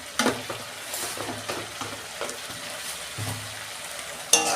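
Jackfruit and ground spice paste stir-fried in oil, a continuous sizzle with repeated scraping stirs and soft clunks of a spatula against the pan, close up and without talk.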